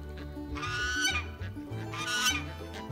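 Loud honking quacks from ducks coming for treats, a few harsh calls close by over low background rumble.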